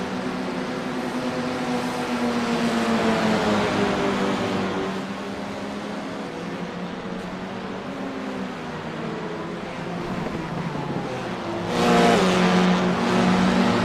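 A Formula 4 race car engine in iRacing sim racing drones loudly and continuously from onboard, its pitch rising and falling through gear changes, with a sharp rev surge near the end.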